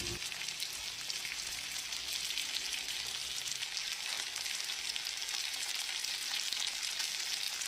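Chicken sisig fries in melted butter, a dense, continuous crackling sizzle at close range, steady throughout with no voices.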